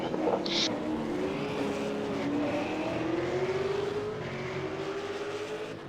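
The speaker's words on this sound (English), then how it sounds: "Tobias very close through the final chicane." V8 Supercar race cars lap the Zolder circuit, their engines whining and rising steadily in pitch as they accelerate past through a chicane, loud and continuous with no talk.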